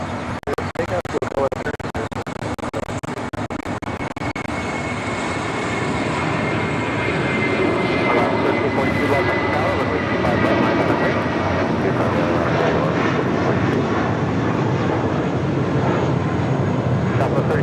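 A plane takes off at LAX, its engines rising into a broad, sustained roar that grows louder and fuller over many seconds, with faint radio chatter early on.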